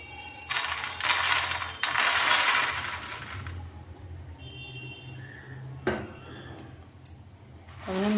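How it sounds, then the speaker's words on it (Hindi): Roasted makhana (fox nuts) poured from a pan into a metal vessel in a home kitchen, giving two bursts of light rattling and clattering followed by scattered clinks and scraping, fairly close, without speech. "अब इसको हम एक बर्तन में निकाल लेते हैं।"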